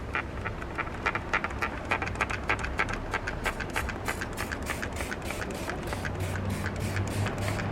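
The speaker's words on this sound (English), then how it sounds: "I'm just gonna spray the petals" A hand spray bottle of soap and water misting salvia petals on a balcony garden, with a rapid run of short squirts, close and continuous, over faint background noise.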